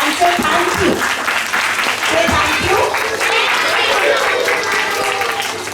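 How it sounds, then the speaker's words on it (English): Children in a school assembly applaud a class 1B presentation with loud, sustained clapping that fills the hall throughout, steady and dense without a break. "So let's clap for them and say thank you."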